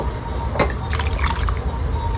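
Water pours from a tap and trickles briefly with a splashy, gurgling hiss, close by, with a few small clinks in the background.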